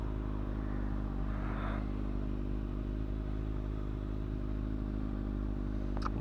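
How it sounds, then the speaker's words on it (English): A warmed-up new motorcycle idles steadily nearby, a low, even engine drone throughout with a faint clatter, and no talking. "The bike is pretty much very warmed up."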